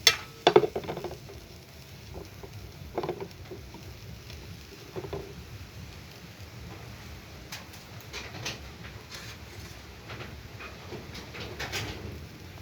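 Grated coconut tipped into a wok and stirred, with scraping and a soft sizzle, sharp clatters near the start and irregular stirring strokes throughout, no talk.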